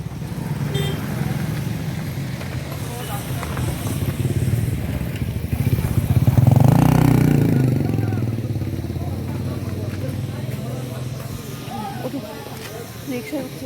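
A rickshaw engine drones steadily during a ride, swelling louder midway before settling back, with people talking over it throughout.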